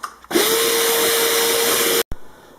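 Bissell ProHeat carpet cleaner soaking a coffee stain on carpet: a loud steady motor whine with a high tone starts abruptly, holds for almost two seconds, then cuts off, followed by a brief click.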